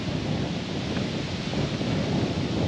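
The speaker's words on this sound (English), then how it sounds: "it's just not fun to fly a drone in these sort of windy conditions." Strong wind in Stanley Park, Blackpool, roaring as a steady, loud broadband rush across the microphone, constant with no pauses and no voices.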